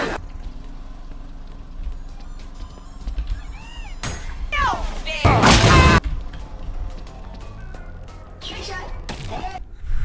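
A bomb goes off in the video game Forsaken: a loud, booming burst about halfway through, among scattered game effects and excited voices.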